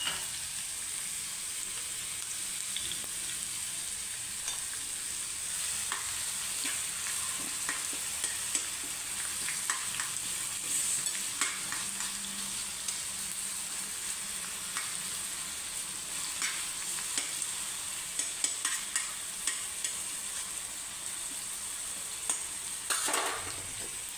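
Onion and green chili dry-roasting in a pan over medium gas, giving a steady, soft sizzle with light scraping and stirring clicks throughout, close and continuous with no talk.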